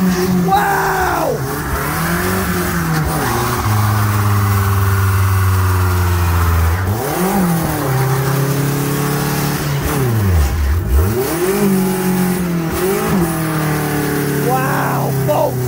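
A stunt car's engine revs hard and steady through a fifth-gear burnout, pitch rising and dipping repeatedly, loud and close throughout.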